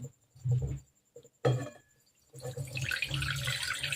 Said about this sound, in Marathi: आता आपण हे पाणी काढून घेऊ